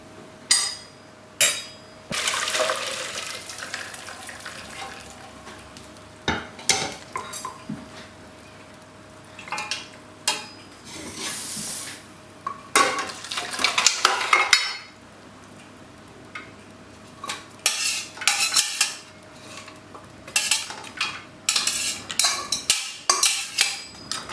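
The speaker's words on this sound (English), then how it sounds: "I'm just going to sieve it through and save the stock and the meat separately" Cooked lamb and its stock are strained through a sieve for pilau, giving scattered metallic clinks, knocks and clatters of utensils against cookware in irregular bursts, with brief splashy pours and quieter gaps between.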